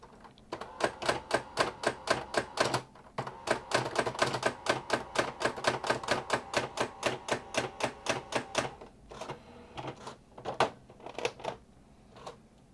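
Steady, fast keystrokes on an electronic thermal typewriter as text is typed with underlining, sharp close clicks in an even run, then a pause and a few scattered final strikes, no voices.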